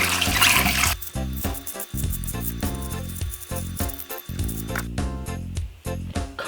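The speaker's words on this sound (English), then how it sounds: "Next, we want to rinse off our apples." Apples are rinsed under a running kitchen tap, the water splashing and trickling over the fruit in an uneven, close stream with shifting spatters and brief pauses, no voices.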